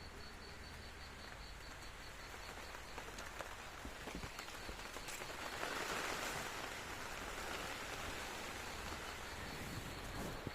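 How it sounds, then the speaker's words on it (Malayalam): Steady rain falls outdoors in Kerala and patters continuously on surfaces. The hiss swells slightly midway through, with insect-like chirps faintly underneath and no voices. "കുഞ്ഞുമണിക്കും ചെറുക്കാപ്പിക്കും മഴയായതുകൊണ്ട് വെളിയിലിറങ്ങാനൊന്നും പറ്റാതിരിക്കുക"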